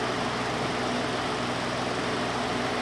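A three-bladed fan spins at about 1000 RPM in a university dynamics laboratory, giving a loud, steady, broadband whir with no pauses or voices.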